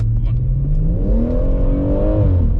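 A BMW M140i accelerates hard, its engine note rising steadily in pitch before shifting up into second gear, loud and close from inside the car, with a voice talking over it.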